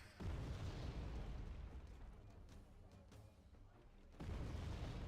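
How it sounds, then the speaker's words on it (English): Mortar fire in the war game Wargame Red Dragon: heavy low booms roll continuously and fill the clip, easing briefly in the middle before surging loud again near the end. "it's heavy artillery, but no, it's just mortars firing"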